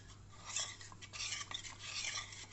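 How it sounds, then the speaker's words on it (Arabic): A spoon gently stirs kunafa ingredients, clotted cream and starch, in a pot, soft scraping and swishing strokes repeating close by with a faint steady hum beneath. "ونبتدي نقلب المكونات مع بعض، نقلبها بالراحة"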